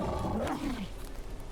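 Wolves in the video game Drova let out a short, deep, rough growl that rises and falls over about a second, heard alone and fairly quiet.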